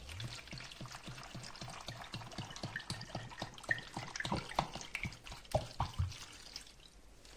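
Water is poured into a pot over pickled mango (amba) with spices and salt, making a steady stream of rapid splashing and dripping pulses, fairly quiet and close, with no talking.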